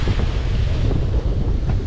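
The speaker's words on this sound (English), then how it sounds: "Back up to 30 plus knots of wind, but it's behind us, so it's good." Strong wind of over 30 knots buffets the microphone in a steady roar aboard a sailboat at sea, mixed with the rush of waves, no voices present.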